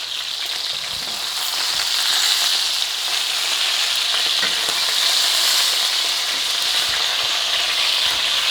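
A ribeye steak searing in a hot pan, a loud, even hiss that holds steady throughout with scattered small pops and crackles.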